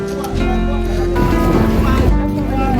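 A wind-powered sailboat with no motor moving on the sea off Boracay, with a steady rush of wind and water under a tonal hum, and people talking over it.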